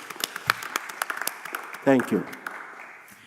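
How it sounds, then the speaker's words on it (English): Light, scattered clapping from a few people in a city council chamber, quiet and uneven, fading out as someone speaks briefly. "Please give him a round of applause."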